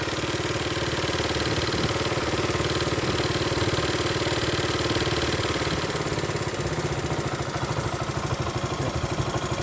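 A 1973 Honda Mini Trail 50cc motorcycle idles close up with a fast, steady, buzzing putter. The idle sits a little high and holds a continuous, even rhythm throughout.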